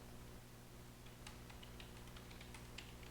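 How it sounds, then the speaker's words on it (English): Soft, irregular keystrokes tap on a computer keyboard, close but quiet over a steady background hum, with no one speaking. "But let me type."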